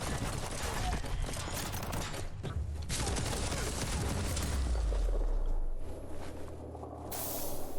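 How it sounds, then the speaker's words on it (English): Rapid automatic fire from an auto turret in the video game Biomutant, a dense, continuous burst of gunshots mixed with explosions and booms, loud and close throughout, with a low rumble building toward the end. "Someone has an auto turret."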